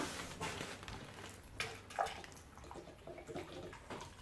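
Liquid is poured slowly into a can as part of a homemade no-electricity heater, a faint, soft trickling and gurgling that runs steadily for a few seconds.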